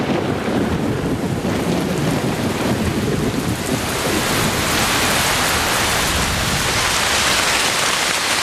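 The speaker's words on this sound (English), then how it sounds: "By the end of December, the rains have arrived with full force." Heavy rain in the Amazon rainforest falls in a loud, dense roar with rolling thunder, a continuous downpour with no voices.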